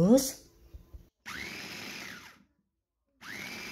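A Miyako CH100 electric food chopper grinding diced beef for meatballs whirs in two short bursts with a pause between, close and moderately loud, after a brief clatter.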